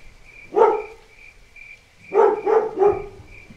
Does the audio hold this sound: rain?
no